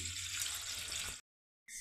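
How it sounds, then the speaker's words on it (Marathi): Water is poured slowly off settled bajra (pearl millet) starch in a home kitchen, a steady close trickle that stops abruptly, then briefly resumes. "अगदी हळूवारपणे हे पाणी काढायचं आहे"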